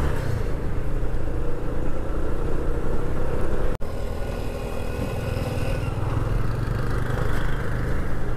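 A vehicle drives along a rainy road between Bhayandar and Gorai village while overtaking, its engine a steady close rumble mixed with wind and road noise, broken by one brief dropout, with no talking.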